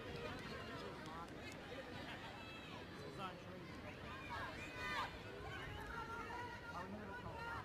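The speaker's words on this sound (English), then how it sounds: "Good crowd at the venue." Crowd at a women's international football friendly between Chile and the Philippines, a constant distant murmur of voices with scattered shouts and whistles, faint and steady throughout.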